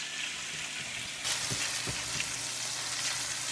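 Two tablespoons of minced garlic sauté in olive oil in a pan, giving a dense, steady close-up sizzle that swells briefly with a few soft pops.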